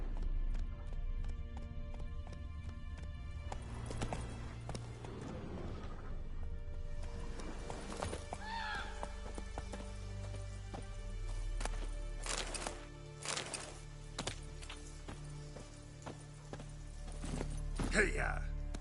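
Roach, the horse in The Witcher 3, gallops with steady clip-clop hoofbeats and an occasional whinny, heard throughout against game music and ambience, with a rider's voice calling out now and then.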